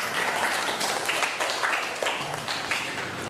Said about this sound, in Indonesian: Tepuk tangan dulu Mas Hafiz.